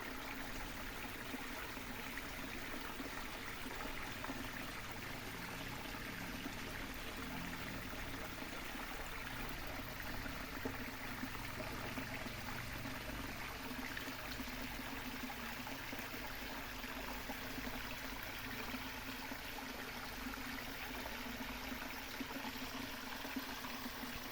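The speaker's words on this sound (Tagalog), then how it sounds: "yung lagaslas ng tubig" A forest stream gurgles and rushes continuously, a faint, steady wash of flowing water with no voices, heard along a woodland walk.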